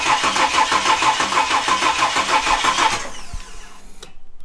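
Ford EF Falcon with a Barra turbo engine on its first start attempt: close, loud rhythmic cranking for about three seconds, then a sharp drop as the engine cuts out, leaving a faint low rumble.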